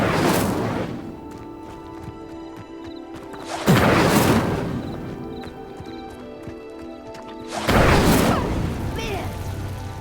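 In the Hogwarts Legacy video game, an Incendio fire spell is cast on a pyre, producing three heavy whooshing bursts of flame, each booming loudly, then fading over a few seconds against quiet game ambience.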